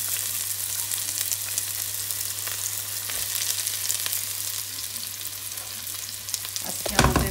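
Onions sizzle and crackle steadily in hot oil while a vegetable curry gets started, with a continuous close frying hiss, a low constant hum underneath and a louder burst of spattering near the end.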